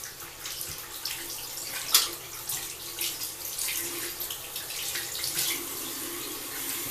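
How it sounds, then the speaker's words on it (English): Water runs steadily from a tap as hands are rinsed, a continuous soft splashing hiss with small fluctuations and no talking. "Just gonna rinse my hands for a minute."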